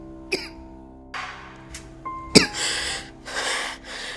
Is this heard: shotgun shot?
no